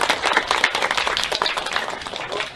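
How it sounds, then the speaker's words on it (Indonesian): A classroom of students claps together after a classmate gives an answer, producing a brisk, dense burst of hand clapping close by that fades slightly toward the end. "Tepuk tangan."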